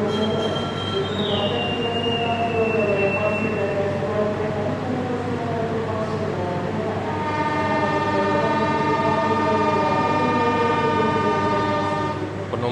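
The Malioboro Express passenger train pulls out of the station, with loud continuous rolling and high wheel squeal rising, then a sustained horn-like tone joining partway through, close and steady.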